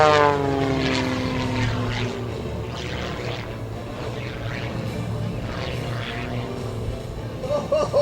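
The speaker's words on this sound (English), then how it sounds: "The aircraft just tumbling and through the skies of Tuscaloosa." An aerobatic propeller plane tumbles through the sky at the 2012 Tuscaloosa Regional Air Show, its engine snarling and shifting pitch in sweeping changes, heard from a distance alongside crowd noise and a commentator speaking.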